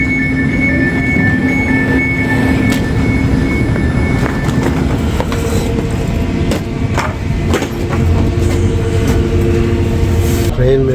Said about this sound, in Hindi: ट्रेन में बैठ चुके हैं और ट्रेन हमारी बिल्कुल ऑन टाइम है